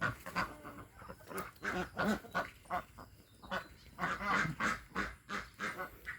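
Ducks quack repeatedly in loud, overlapping bursts close by, a steady chorus of honking calls with no talking.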